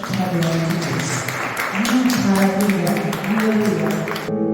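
A church congregation claps loudly and continuously during a worship service, the applause blending under a sustained voice and tonal sound before cutting off abruptly.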